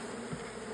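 Dense buzzing of a massive clump of bees in a hive being smoked, a close continuous hum lasting under a second.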